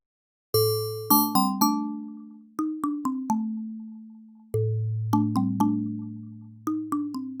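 Synthesized bell-like tones from an AAS Chromaphone 2 percussive synthesizer ring out in quick struck runs, each note decaying cleanly, with a long sustained tone between two bursts of rapid notes, loud and alone.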